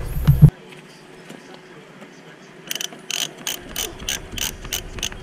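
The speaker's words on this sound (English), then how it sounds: "I'm just using it to tension the belt and tighten down the bolts" A screwdriver tensions the belt and tightens bolts on a Yanmar 2GM20F small diesel sailboat engine. A sharp clunk opens the clip, and after a quiet pause a run of quick metallic ratcheting clicks follows up close.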